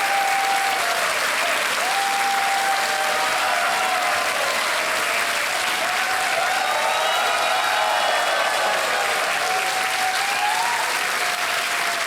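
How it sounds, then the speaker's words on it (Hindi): A studio audience at a television quiz show claps loudly and continuously throughout, a dense, even roar of applause with a faint musical tone running underneath. "ताली बज जाए इनके लिए, बधाई आपको"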